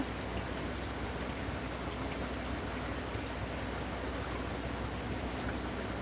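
Steady rain falling in a rural outdoor setting, a dense even patter of drops that holds constant and fairly close without any voices.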